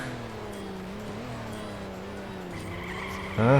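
A race car in the mobile racing game Nitro Nation launches off the start line, its engine holding a steady rising whine before a sharp jump in loudness near the end.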